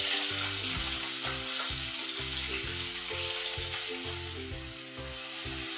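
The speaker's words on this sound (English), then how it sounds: "I have about 350 grams of paneer, which I'm just going to fry in this butter" About 350 grams of paneer frying gently in butter in a pan, a steady close sizzle with soft stirring scrapes and no talk.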